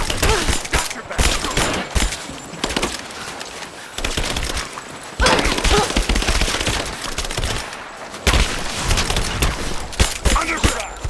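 Dense bursts of automatic gunfire in Rise of the Tomb Raider, loud rapid volleys broken by a few brief pauses, continuous and close throughout the firefight.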